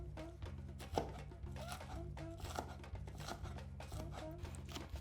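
A knife chops spring onion into tiny bits on a board, a rapid run of sharp, close taps in an even rhythm over soft background hum.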